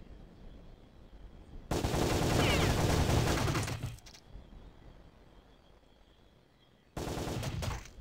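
Two loud bursts of rapid automatic gunfire, one about two seconds long and a shorter one near the end, come from the video game Sure Shot. A quieter stretch of ambient game noise separates them.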